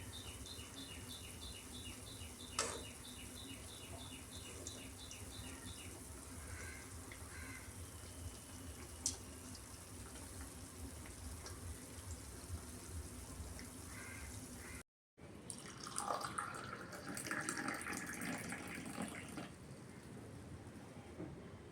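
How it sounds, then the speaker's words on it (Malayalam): Small balls of semolina rava vada batter frying in oil, a soft, constant crackling sizzle that runs throughout, with a brief break partway and a livelier burst of bubbling after it. "ചെറിയ ഉണ്ടകളാക്കി നമ്മൾ ഇതുപോലെ ഒന്ന് ഷേപ്പ് ചെയ്ത് എണ്ണയിലേക്ക് ഇട്ട് കൊടുക്കുക"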